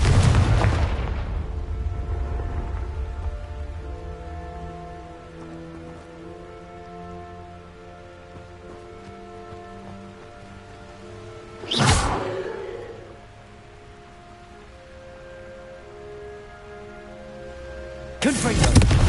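Spell blasts from the Confringo curse in Hogwarts Legacy: a loud opening boom and two more sharp bursts later, at the middle and the end, with a low rumbling tail beneath a ringing musical background.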